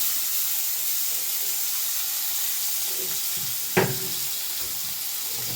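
Food sizzles and hisses steadily in a hot wok while chutney is cooked, with a brief clatter midway as something is stirred or added.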